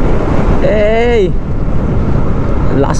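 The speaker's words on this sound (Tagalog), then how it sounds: "Lakas pa rin ang hangin banda dito" Strong wind buffeting an outdoor microphone near the coast, a constant loud rumble with a brief voice rising over it.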